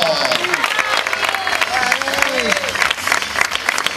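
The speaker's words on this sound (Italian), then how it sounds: "Applauso!" Holiday village guests applaud children after a mini club show, lively crowd clapping with cheers and chatter mixed in, loud and close throughout.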